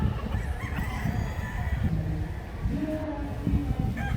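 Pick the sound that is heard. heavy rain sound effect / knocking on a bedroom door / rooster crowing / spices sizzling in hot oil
rooster crowing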